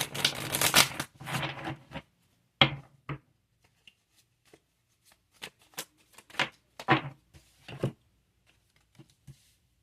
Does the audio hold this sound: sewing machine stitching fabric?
no